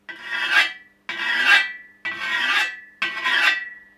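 A hand file rasps along a scythe blade in four steady, even strokes about a second apart, each one loud and close with a bright metallic edge, separated by brief pauses.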